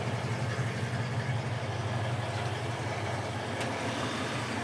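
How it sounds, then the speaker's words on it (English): A 1971 Ford Mustang convertible idling at a classic car dealership, a quiet, steady low rumble with an even pulse throughout and no one talking. "Nice and quiet, too. Yeah, it is. Engine sounds good."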